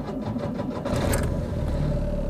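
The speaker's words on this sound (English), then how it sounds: "If I start the engine..." A Skoda Favorit car engine cranks with a rapid rhythmic starter whir, then catches and settles into a steady low idle rumble, close and moderately loud with no talking.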